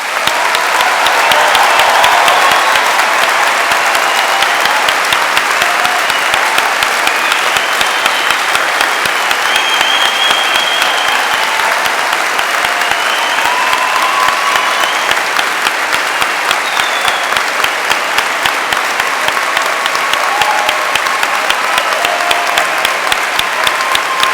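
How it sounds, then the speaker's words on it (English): Audience applause for graduates at a London degree ceremony, a steady sustained clapping from a large crowd that runs unbroken throughout. "I would like everyone to give you one last round of applause."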